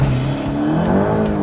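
A VW Golf Mk8 GTI launching hard on a dyno, its engine note loud and close, climbing steadily in pitch through a continuous rev without any speech.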